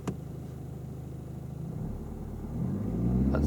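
A learner driver presses the gas pedal of a car, and the engine hum swells gradually from a steady idle into a louder, deeper rev, close and continuous with no talk.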